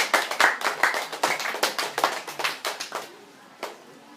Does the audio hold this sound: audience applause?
yes